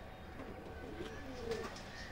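A pigeon among many kept birds at a house gives soft, low cooing calls over faint background murmur and hiss, quiet and close.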